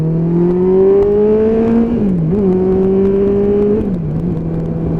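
A motorcycle revs hard as it accelerates up a hill, its engine note climbing, dipping briefly at gear changes, then pulling again, loud and close with no talking.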